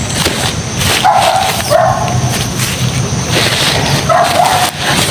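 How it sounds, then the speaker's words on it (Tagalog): Several dogs barking at a distance in a row of short, repeated yaps over steady loud background noise, with a brief pause before a final burst. "May mga aso doon, maraming aso."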